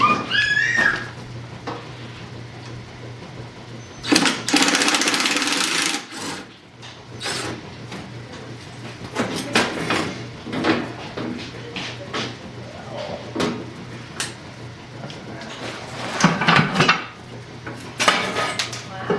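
Metal clanks, scrapes and rattles come close and in irregular bursts as someone works on a corroded bolt to take off the side panel of a cook stove, with quieter handling noises between them.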